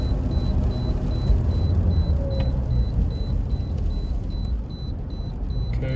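A Toyota RAV4 with a rebuilt transmission driving and downshifting, with a steady low engine and road rumble throughout and a faint repeating beep in the cabin.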